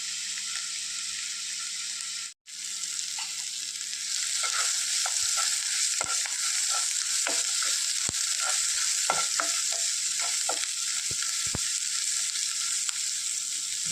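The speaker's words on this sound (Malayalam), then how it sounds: "ഇതെല്ലാം ഒന്ന് നന്നായിട്ട് മൂത്തൊരു ബ്രൗൺ കളറാകുന്നത് നന്നായിട്ട് വഴന്ന് വരണം" Onions and green chillies sautéing in oil in a pan, a steady soft sizzle with repeated scraping stir clicks, after a brief dropout near the start.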